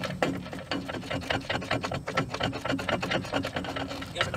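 A ratchet wrench undoing a brake anchor nut on the Dana 70 HD rear drum brakes of a 1980 Ford F-350 service truck, with steady rapid clicking close up throughout.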